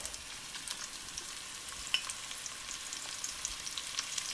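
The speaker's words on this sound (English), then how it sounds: "Just going to let it sear." Floured mutton sears in a pan over the highest flame, giving a steady, moderately quiet sizzle and crackle with a few sharper pops, and no one speaks.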